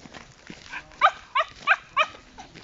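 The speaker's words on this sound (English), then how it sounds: "There's a dog up ahead," A dog up ahead on a walk gives a run of about four or five evenly spaced barks, moderately near and clear, with quieter sounds between them.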